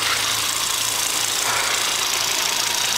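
A 2005 Volvo 2.5T engine with a Eurosport catback exhaust runs steadily at idle, a continuous low drone with a faint rhythmic pulse and broad hiss, no talking.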